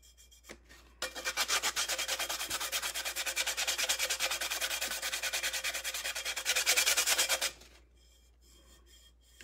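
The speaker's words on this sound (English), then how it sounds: "I just use this and then I just kind of rub it." A surface is rubbed and sanded by hand with fast, even back-and-forth strokes, a close, continuous gritty scraping that runs steadily for several seconds before stopping.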